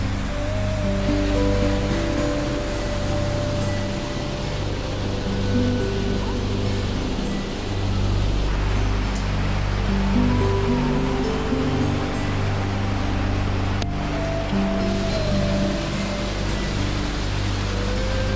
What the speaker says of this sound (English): the coolest part was the waterfalls.